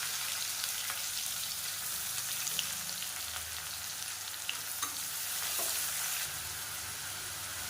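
Thinly sliced large onions frying in oil for chicken biryani, a steady, close hiss and sizzle with faint stirring clicks throughout and no talking.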